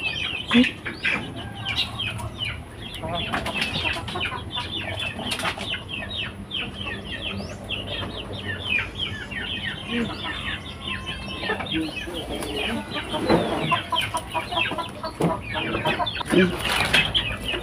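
Chickens cluck and squawk steadily throughout at a rural backyard coop, with a burst of wing flapping and occasional louder calls, close and continuous with no talk.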